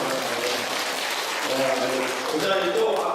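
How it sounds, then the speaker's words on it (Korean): Audience applause at a church revival meeting, a steady broadband patter of many hands clapping with voices talking over it throughout. "박수 한번 쳐주시고."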